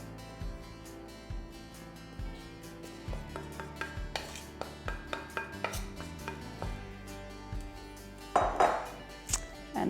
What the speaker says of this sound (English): And then just whisk that together.